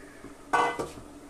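Fried mango pieces go into a pot of simmering dal with one sudden clattering splash, a smaller knock just after, then a quiet low simmer, with no voices.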